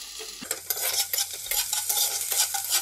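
Chopped onion, dried red chilli and curry leaves fry in hot oil for poha, a dense close sizzle layered with repeated scraping strokes of a spoon against the pan, no voices.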